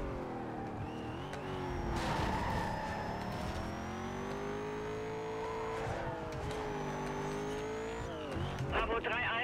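In the racing game Need for Speed Most Wanted, a car engine revs and holds a steady high whine through curves, pitch rising and falling with brief tire squeals, while someone talks over it.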